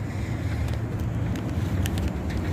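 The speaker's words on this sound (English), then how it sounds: "See the car traffic there." Car traffic on the Las Vegas Strip rumbles steadily in the background with a low, continuous road noise and some passing swells, heard outdoors with no talk.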